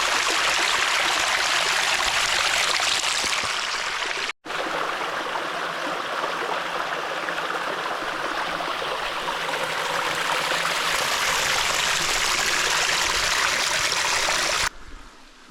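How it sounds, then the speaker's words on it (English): Creek water running steadily in the Australian bush after rain, a loud, close, continuous rushing and gurgling flow that drops out briefly once and holds otherwise unbroken, with no voices. "because of the creeks flowing a lot more"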